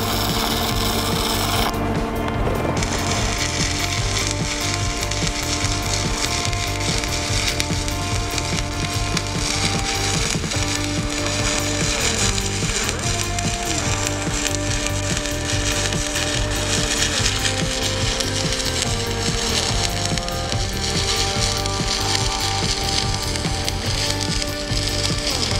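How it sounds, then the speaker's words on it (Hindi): Stick arc welding with an E308-16 stainless electrode makes a steady, dense crackling and sizzling hiss that runs loud and unbroken from start to finish, with an underlying electrical hum. "वो मैं वेल्डिंग ग्लास में आपको आर्क दिखाता हूँ। आर्क काफ़ी टाइट है इसमें और स्मूथली ये इलेक्ट्रोड चल रहे"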